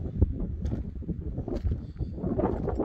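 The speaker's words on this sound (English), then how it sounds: "It's just way too windy out here. You probably hear the wind" Strong wind blowing outdoors in desert country, a loud low rumble buffeting the microphone in uneven gusts throughout, with no talking.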